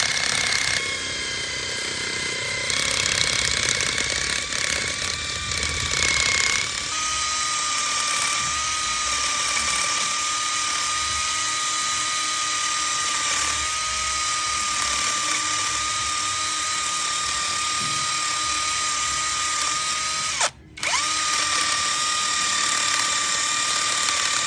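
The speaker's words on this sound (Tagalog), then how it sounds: "gawin natin siya ng steel brush para matanggal yung mga kalawang" A power drill fitted with a steel wire brush scrubs rust and grime off a scooter magneto, a steady loud whirring drone that runs continuously with a brief cut near the end.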